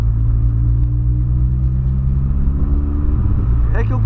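Volkswagen Polo Sedan engine on a performance build, a steady loud low rumble of an idling or lightly revved motor, close and continuous, with a brief higher-pitched change near the end.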